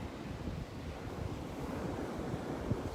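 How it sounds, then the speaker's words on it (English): Strong wind roars at a beach near Avon, North Carolina, buffeting the microphone in a steady, loud low rumble mixed with surf, with no voices. "it's blowing hard out here, and hopefully the wind won't mess up the sound too much"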